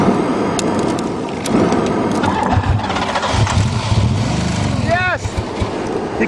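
A crushed Buick Regal 3.8 engine cranks and tries to start, a loud rough mechanical churning with knocks and scraping. A voice speaks over it, and there is a brief whine near the end.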